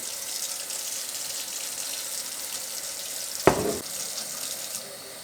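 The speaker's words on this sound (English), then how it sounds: "Some water and the Dawn dish soap that cleaned out." Water runs steadily from a tap while a lawn mower air filter is rinsed clean with Dawn dish soap, with a short, sharp splash near the end and no talking.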